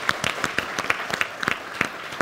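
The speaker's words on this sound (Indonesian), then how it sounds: "Kita kasih tepuk tangan dong buat semua." An audience at a year-end talk-show gathering claps in a brief, lively burst. The claps are dense and close together, with a faint murmur of voices underneath.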